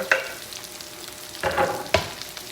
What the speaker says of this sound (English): I'm just going to put these onions straight into that ghee and those little bit of meat juices